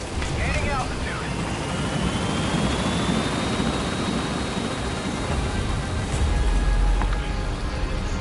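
In Metal Gear Solid V, a helicopter gains altitude with a steady, dense roar of rotors and engine that fills the whole stretch, while voices talk over it.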